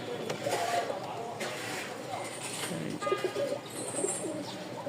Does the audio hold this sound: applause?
no